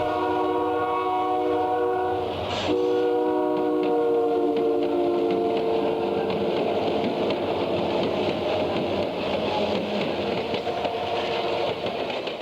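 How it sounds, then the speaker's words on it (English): A passing train on a snowy railway line rumbles steadily with a prominent multi-tone horn sounding early on, the heavy rolling noise continuing loudly throughout. "the Sunday River Express ski train takes a siding to allow train 394 from Montreal to pass"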